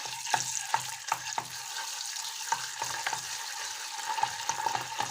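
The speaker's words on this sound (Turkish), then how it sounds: "salçamızı biraz kavuralım" Tomato paste fries in oil in a pan with a soft continuous sizzle, broken by repeated scraping strokes of stirring, close and without voices.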